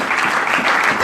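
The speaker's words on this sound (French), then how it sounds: "Non, acclamez pour le Seigneur." A church congregation clapping and cheering in praise during a worship service, a dense burst of applause with no break.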